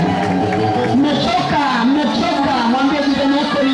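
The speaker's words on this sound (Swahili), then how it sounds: "Pigie Yesu makofi na vigelegele." Loud, continuous congregation noise at a church service, with a crowd clapping and ululating in praise of Jesus, a dense cheering hubbub that holds steady throughout.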